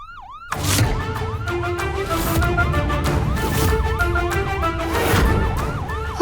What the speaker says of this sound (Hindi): एक मिनट, इट्स सायरन।